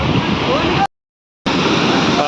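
Loud, steady rush of heavy water at Verawali waterfall in the Konkan, a broad roar close by that cuts out briefly and then resumes.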